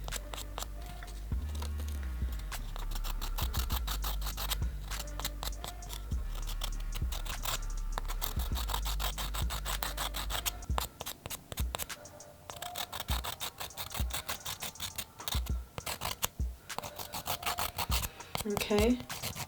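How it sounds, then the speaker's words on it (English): A nail file scrapes across a natural nail bed to roughen it before polygel goes on, a close, rapid back-and-forth rasp that continues steadily with brief pauses. "I like to just file the nail bed, make it a little rough."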